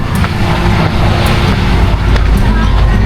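Motorcycles pass on a busy road, a continuous loud engine and traffic roar with a few sharper surges as vehicles go by close up.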